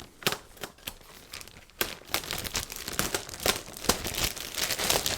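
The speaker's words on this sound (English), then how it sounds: "Let's just cut this bag, how about?" Plastic bag being cut open while unboxing a Fluance RT81 turntable, with a string of sharp crinkling, snipping and tearing rustles, close up and fairly quiet, growing busier toward the end.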